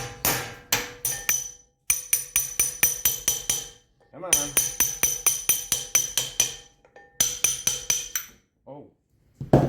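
Metal clanging from hammering on an ATV dump trailer with an extension bar: rapid, loud strikes in repeated bursts with short pauses between them, and a brief spoken remark.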